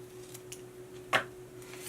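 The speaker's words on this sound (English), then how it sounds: "I'm going to cut around the amount of brown that I want to see on this sign." Scissors snipping around a paper sign, a few faint clicks then one sharper close cut over a low steady hum.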